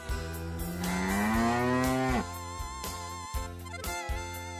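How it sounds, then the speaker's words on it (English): A cow lets out one long, rising moo lasting about two seconds, over a light musical backing that continues after the call ends. "Cow."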